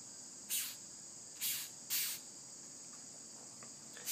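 A rhinoceros beetle's defensive stridulation: short, bright rasping bursts, three close together and another at the end, over a steady high background hiss.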